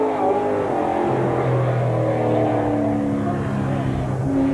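Late model stock car racing at Columbus Motor Speedway, with a car on slick tyres, gives a continuous loud engine drone with shifting pitch as it laps, under steady announcer talk.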